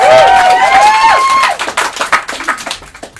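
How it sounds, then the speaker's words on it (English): An audience applauds at a science talk event, a brief whistling tone giving way to a burst of clapping that thins out over a couple of seconds. "Can I have a big round of applause to Katie Question?"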